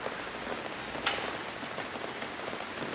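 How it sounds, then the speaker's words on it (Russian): Rain falling outdoors in Paris makes a steady, even hiss of drops on hard surfaces, close and continuous with a few slightly sharper taps, and no voices. "У нас идет дождик"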